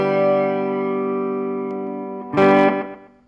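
A sustained electric guitar chord through an amplifier's flange effect rings out and slowly fades, followed by a louder strummed chord near the end that then decays.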